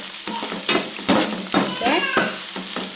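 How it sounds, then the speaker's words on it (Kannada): Mustard seeds and coriander leaves sizzle in hot oil for an egg sambar, a close crackling frying sound broken by sharp pops and spatters, with a few squeaky high bursts mixed in. "ಅದೇ ಎಣ್ಣೆಗೆ ಸಾಸಿವೆ ಹಾಕ್ತಾಯಿದ್ದೀನಿ, ಕೊತ್ತಂಬರಿ ಸೊಪ್ಪು ಹಾಕ್ತಿದ್ದೀನಿ"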